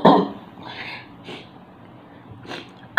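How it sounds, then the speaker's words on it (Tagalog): A woman's short harsh cough opens, followed by a few faint throaty breaths and small huffs, then another abrupt cough at the very end, close and fairly loud. "nandidisturb na ako sa ubo ko eh."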